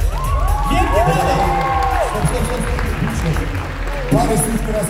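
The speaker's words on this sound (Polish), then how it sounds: "Wielkie brawa!" Crowd cheering and applauding at a face-to-face event, loud and continuous, with whoops and shouted voices rising over the clapping and a fresh surge of shouting near the end.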